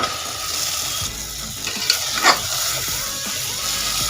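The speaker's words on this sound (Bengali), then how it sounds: "এই সময়ের মধ্যে মটনটা দিয়ে দেব" Mutton pieces go into hot oil and well-fried spices in a curry pan, giving a steady moderate sizzle with a brief louder crackle and stir in the middle.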